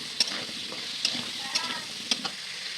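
Squash pieces frying in oil previously used for frying prawns, giving a steady close hiss and crackle, punctuated by a few sharp clicks of a utensil against the pan.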